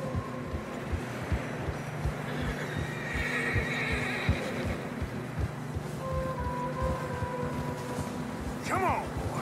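In Red Dead Redemption 2, horses travel through fresh snow along a narrow trail, with steady hoof clip-clops and snorting under a low ambient hum, and a short whinny near the end.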